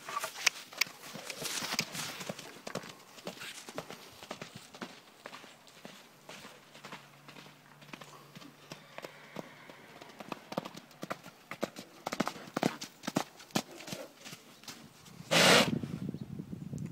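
Hooves clop rapidly on the ground as a horse moves about, with irregular bursts of footfalls and a loud snort near the end.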